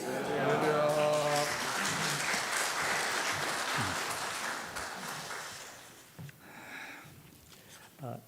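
A church congregation at a Sunday service applauds loudly to welcome the pastor after a brief burst of voices. The clapping fades over several seconds into a quieter room with scattered small noises.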